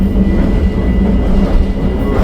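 Loud, steady low rumble of a metro train in motion, heard from inside the carriage with a constant droning hum.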